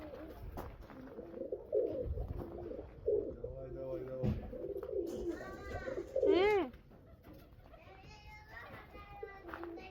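Pigeons coo softly outdoors while wings flutter during a flight, with people, including a child, talking over much of it.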